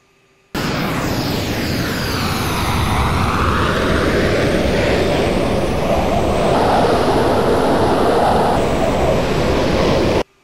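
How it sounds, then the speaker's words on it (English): A Hornet fighter jet roars off an aircraft carrier deck, a loud, steady jet-engine blast with wind-like rushing that sweeps in pitch as it passes, with no voices. "Hornet 1-2, Song Tower, you are cleared for takeoff"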